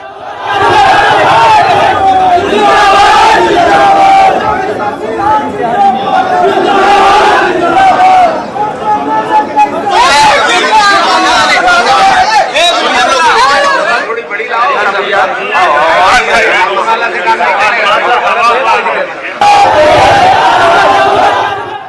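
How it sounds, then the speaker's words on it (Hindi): A large crowd at a political nomination rally roars with chanting and shouting, dense and loud throughout, with many voices overlapping in a constant babble. "बड़ी भीड़ थी।"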